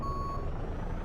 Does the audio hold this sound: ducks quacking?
no